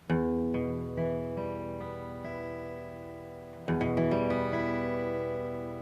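A clean, ringing guitar chord strummed once and left to sustain, then strummed again partway through, with no voices over it.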